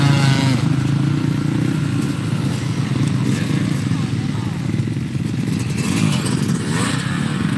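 An old Kawasaki KX125 two-stroke dirt bike engine runs steadily at a motocross school, a continuous buzzing drone close by with a brief rise near the end, with people talking over it.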